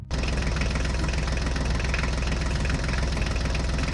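A mini tractor engine runs steadily while driving, a loud, continuous, knocking diesel chug with dense low rumble, close and unbroken from start to finish.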